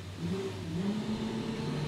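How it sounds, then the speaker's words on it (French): Three Yamaha 4-litre V6 300 hp outboard engines on a 12.5 m boat roar steadily behind, a loud continuous drone with no pauses. "Vous les entendez, ils rugissent derrière nous, ces moteurs."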